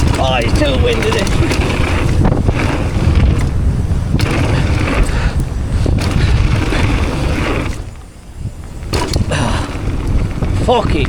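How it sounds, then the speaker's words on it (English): Strong wind buffets the microphone at a dirt bike track, a loud, rough rumbling roar with gusty surges and one brief lull, while people talk over it. "Oh, it's too windy this."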